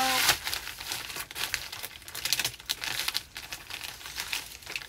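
Items are pushed into a padded flat rate envelope, producing close, continuous crinkling and crumpling with rustling bursts and no talking.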